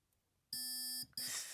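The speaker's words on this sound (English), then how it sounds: "5 is a long beep" A Hobbywing ESC sounds a programming tone: a long, loud electronic beep lasting about half a second, a brief gap, then another beep starting, in an otherwise quiet setting.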